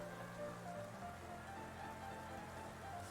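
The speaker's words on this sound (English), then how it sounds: "And we still have that rain coming down over the field." Steady rain falls over a battlefield in a Pokémon video game, a continuous soft patter heard alone beneath faint tonal game music.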